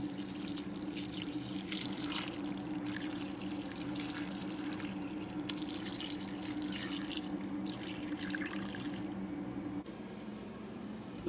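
Water runs and splashes steadily into a cooking pan holding seasoned goat meat with ginger, a continuous close pouring sound with a faint low hum underneath, easing slightly near the end.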